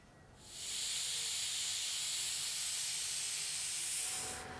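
A pressure cooker whistle releases a steady, loud hiss of steam for about four seconds while cooking matar dal, starting abruptly and cutting off at the end, with no voices.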